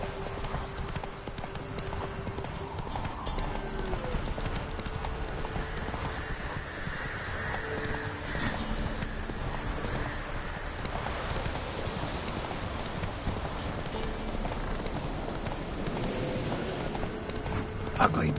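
Roach, a horse in The Witcher 3, gallops with steady rhythmic clip-clop hoofbeats and an occasional whinny over game ambience, with some speech mixed in.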